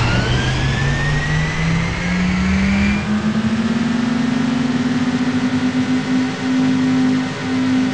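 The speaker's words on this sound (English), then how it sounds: "Gentlemen, start your engines!" Car engines in the City Racing 3D mobile racing game rev and accelerate, a loud steady drone climbing smoothly in pitch and then holding high, with no talk.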